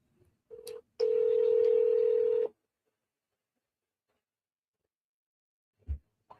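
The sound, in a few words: telephone dialing and ringing for a phone call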